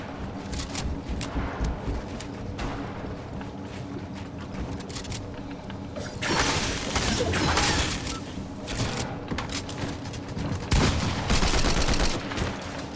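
A combat shotgun fires in Fortnite, a string of loud, rapid blasts that build into heavier bursts over the second half, mixed with clattering game effects and no speech.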